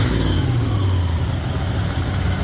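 A 1972 Chevy C20 truck with a misfire and an exhaust leak running steadily at close range, its engine giving a loud, even rumble that dips slightly in pitch as it settles.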